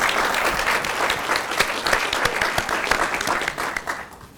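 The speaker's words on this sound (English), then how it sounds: "So give yourselves a round of applause." A commencement audience claps with dense, steady applause for about four seconds, full and fairly close, thinning slightly near the end.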